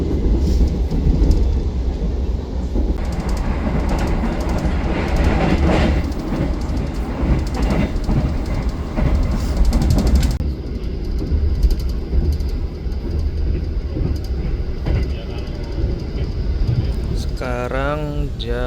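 Steady loud rumble and rattle of the KA Argo Cheribon passenger train running between Cirebon and Gambir, a continuous rolling drone heard from inside the carriage, with a brief change in tone near the end.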